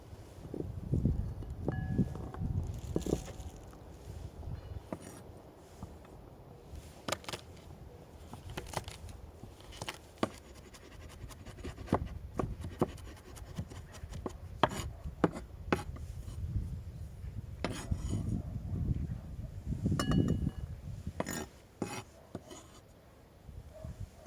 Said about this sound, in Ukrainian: Нарізаю дрібно чесничок